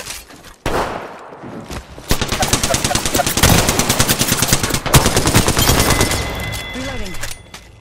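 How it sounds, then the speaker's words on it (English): Automatic weapon fire in the battle royale game Apex Legends, loud sustained bursts of rapid shots filling most of the clip, with brief pauses between volleys and electronic game effects near the end. "I am taking fire, friends."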